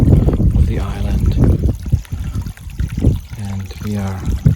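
Water trickles steadily through a crab-filled creek at Homhil, in eastern Socotra, during a night search, with voices talking over the flow close by.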